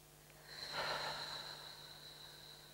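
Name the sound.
deep breath during EFT tapping exercise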